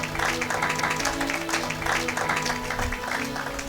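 A church congregation applauding to glorify God during a service: dense, steady clapping from many hands that carries through the whole stretch, loud and close, with a sustained musical tone underneath.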